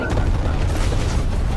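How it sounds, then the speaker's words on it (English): A napalm strike erupts in Call of Duty Black Ops Cold War as a loud, continuous rumbling blast with roaring fire that fills the whole moment at close range. "It really did napalm where I was."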